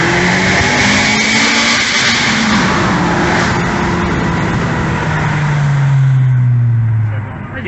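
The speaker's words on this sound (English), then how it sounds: "if you want to hear the intake and the exhaust" A Honda Civic Type R engine revs and accelerates up close, a loud throaty intake and exhaust note rising and falling in pitch.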